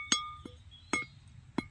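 A knife blade is struck four times, each hit giving a bright metallic ring that decays quickly, close and clear with no talk.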